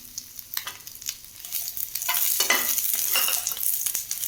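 Turkey berries sautéed in a pan for thogayal sizzle steadily while a spoon stirs and scrapes, with scattered clicks early on building into denser, louder frying noise.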